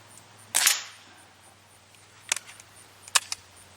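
Diana Trailscout .177 air rifle fired at a target 10 meters away: one sharp close crack followed by a few fainter clicks and snaps of handling, otherwise quiet with no talking.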